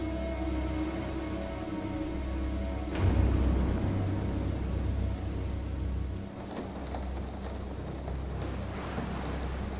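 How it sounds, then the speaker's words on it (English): Rain falls on a glass roof in the steampunk laboratory of the video game Haven Moon: a steady, dense patter throughout, with a low rumble of thunder swelling near the middle and fading again. "I like that sound effect, right, of the rain on top of the glass."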